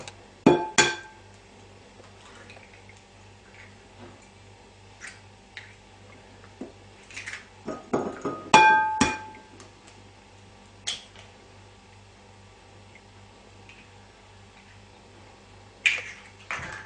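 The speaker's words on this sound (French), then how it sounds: "Je vais casser les 3 œufs en séparant les blancs des jaunes." Three eggs cracked one by one and split into whites and yolks for a salt cod fritter batter: sharp, close clicks and taps in scattered clusters, with quiet pauses between and a brief flurry of knocks near the middle.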